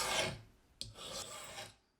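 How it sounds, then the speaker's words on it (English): A hand file rasps across a blank of annealed tool steel, shaping a push graver: a dense scraping stroke, a brief pause with a sharp tick, then a second longer stroke fading out, close and alone. "it comes annealed, which is a huge benefit for me, so I can easily shape it with some files"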